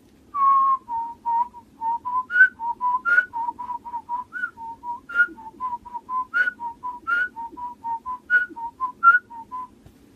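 A person whistles a lilting melody alone, clear and close, with short phrases and brief pauses between notes.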